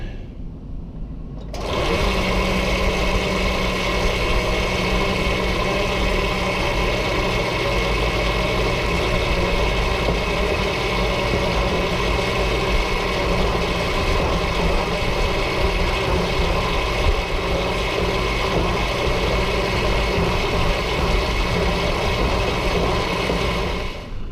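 A tractor engine runs steadily while spreading lime on steep land, a loud, close, continuous droning hum with a strong mechanical whine that holds unchanged throughout after a brief quieter start, with no voices.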